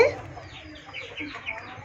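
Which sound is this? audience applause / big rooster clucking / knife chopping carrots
big rooster clucking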